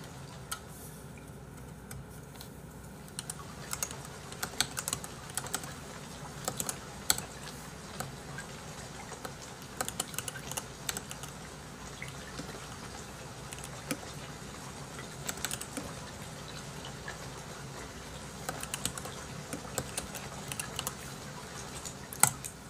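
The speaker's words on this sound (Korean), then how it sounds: "아, 키보드." Keyboard typing at a PC bang, a rapid irregular clatter of key taps running steadily throughout at moderate closeness, with a few louder strikes and no speech.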